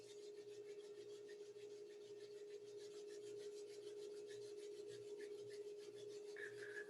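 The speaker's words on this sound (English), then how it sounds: "bring the hands to the heart center and rub them together" Hands rub briskly together during a yoga class, making faint, rhythmic rasping strokes over a steady low hum, with no voices.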